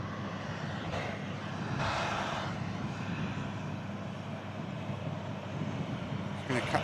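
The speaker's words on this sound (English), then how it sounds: "It's the Embraer Phenom we saw arriving in earlier. Landed in from Leased and it's on its way back out there as well." Faint, steady jet engine roar from an Embraer Phenom business jet departing an airport, a distant broadband rumble holding level with slight swells throughout.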